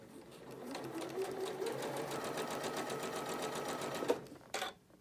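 A sewing machine stitches a quilt block held with ultra-fine quilting pins, running as a fast, steady whirring stitch that stops abruptly near the end.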